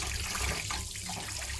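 Hot water runs steadily from a tap into a sink in a continuous, close, broadband rush with no pauses, while a car part with carbon deposits is being cleaned.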